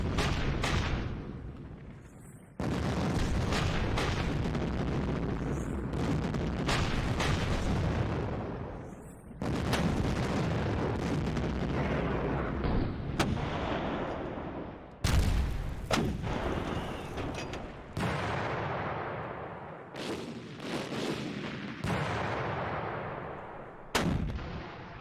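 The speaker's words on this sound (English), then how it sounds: "I'm gonna keep shooting volley after volley." Battleship gun volleys in the wargame Panzer Campaigns: Japan '45, heard as repeated heavy booming salvos with long rumbling tails that overlap and fade between shots, loud throughout with no voices.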